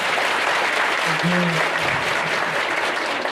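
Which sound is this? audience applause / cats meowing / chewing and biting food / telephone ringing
audience applause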